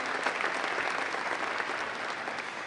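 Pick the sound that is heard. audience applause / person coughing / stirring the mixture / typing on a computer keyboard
audience applause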